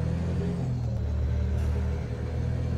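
A DAF 105 truck engine with an open pipe sound mod in Euro Truck Simulator 2 gives a steady, deep, loud rumble with no talk over it.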